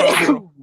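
Someone gives one loud, sharp sneeze that fades into a brief low trailing breath, heard close.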